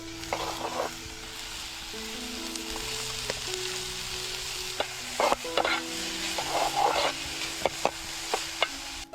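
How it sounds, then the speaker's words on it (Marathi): Crab curry bubbles and sizzles in a pot on a steady low simmer, with a few clinks of stirring against the pot now and then. "इकडे शिजतंय खेकड्यांचा कालवण"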